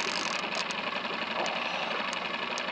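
A fishing boat's engine runs at a slow trolling pace on a shallow lake, a steady, even drone that holds at constant loudness with no voices over it.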